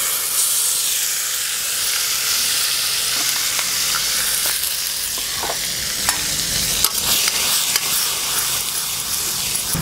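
Ground coriander and cumin roast in a pan over a strong flame, with a loud, continuous hissing sizzle and scattered scrapes of a spoon stirring, close up and without talking.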